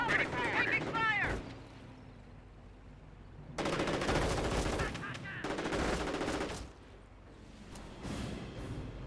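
Bursts of machine-gun and rifle fire crackle through a Company of Heroes battle, some loud and close, others lighter, separated by quieter gaps, while a voice speaks over the start.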